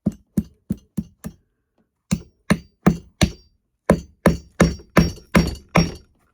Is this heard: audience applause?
no